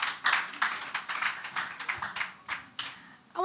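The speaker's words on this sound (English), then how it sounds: "Please give yourselves a round of applause." A conference audience claps steadily, with an irregular patter of hands that rises and falls for a few seconds before tapering off.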